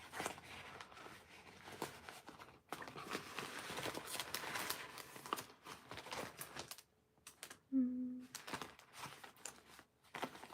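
Mechanical keys of a typewriter tapping in quick irregular bursts at close range, with brief pauses between runs of strokes and a short squeak partway through.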